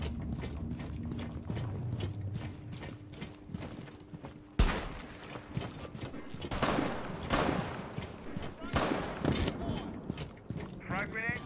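Gunfire in Rainbow Six Siege, a sharp loud report followed by several scattered shots and clattering mechanical noises over game ambience, with a radio-style voice and player talk underneath.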